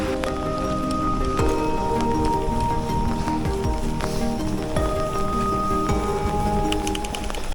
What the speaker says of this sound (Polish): to gradem wali!